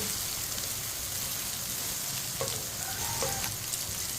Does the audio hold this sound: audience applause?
no